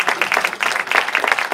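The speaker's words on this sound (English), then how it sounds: "Applause." Brief audience applause, a short burst of close, busy clapping that stays fairly loud throughout.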